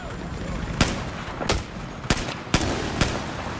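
Battlefield 4 gunfire on Xbox One: five evenly spaced heavy shots boom out one after another over a steady background roar, loud and close.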